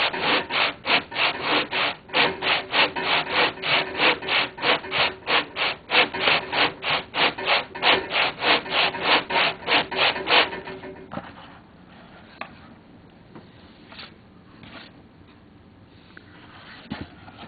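An air motor being sanded by hand with coarse-grit sandpaper, steady rhythmic back-and-forth rasping strokes for about ten seconds, then quieter scattered scraping and handling sounds.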